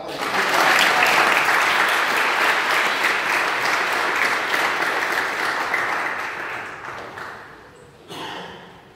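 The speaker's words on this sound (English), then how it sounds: "Let's give God a hand clap" Sustained applause from a church congregation, loud and dense at first, then gradually thinning and fading, with a brief burst near the end.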